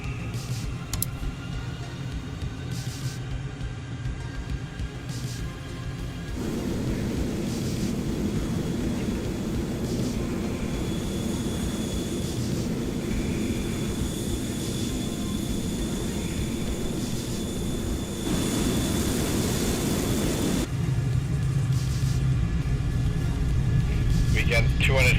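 An F-14 Tomcat jet rolls for takeoff in Microsoft Flight Simulator, its steady engine rumble swelling and thickening as power comes up and then holding strong, with a voice talking over it throughout.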